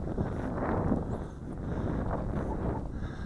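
Wind roaring over a small camera drone hovering almost still in flight with an 808 camera, a constant loud buffeting rush with no talking.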